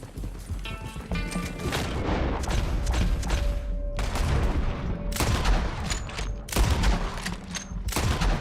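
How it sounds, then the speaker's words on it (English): Gunfire rings out in a Red Dead Redemption 2 shootout, repeated sharp shots in uneven bursts over hoofbeats and game ambience, some cracks close and loud, others trailing off. "Some good shooting, Morgan."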